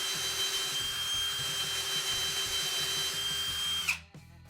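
A Ryobi power drill with a new bit whines steadily at high speed while drilling a hole, close up, then cuts off abruptly near the end.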